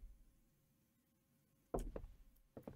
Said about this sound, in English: what is that knocking sound? Are they knocking on my window or mirror?